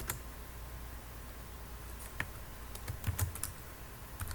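Typing on a computer keyboard while entering a name into a Ruby on Rails setup, a steady patter of light keystrokes with a few louder taps near the end, close and alone with no talk.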